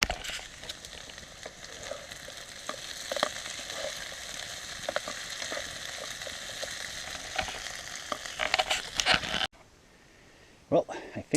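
Steady crackling sizzle of steak cooking on a hot grill, with occasional clicks and clatters near the end, then a sudden quiet.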